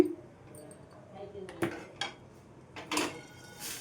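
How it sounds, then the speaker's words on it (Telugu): Roasted gram dal is tipped into fried toor dal in a pan, giving a few light clinks of a utensil on metal and a brief rattling pour of dry lentils, close and quiet. "ఇప్పుడు ఇది ముందుగా మనం ఫ్రై చేసి పెట్టుకున్న కందిపప్పులో వేసేసుకుందామండి"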